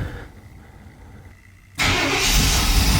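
A GM throttle-body-injected engine, just fitted with a new fuel injector and fuel filter, cranks briefly after a low hum and catches abruptly into a loud, steady run close by.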